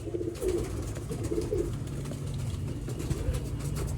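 Kuwaiti teddy pigeons cooing on a rooftop loft, soft low repeated coos in short bursts over a rumbling background, fairly close with no talk.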